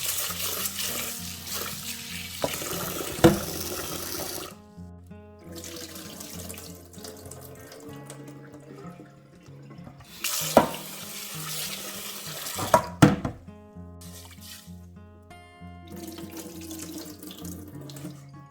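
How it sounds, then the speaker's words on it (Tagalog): Rice being rinsed under running tap water in a kitchen sink, a steady loud water stream with pauses where the flow stops, plus occasional clinks and swishes of grains and pot, with no talk. "I-rinse lang po natin ang ating rice few times."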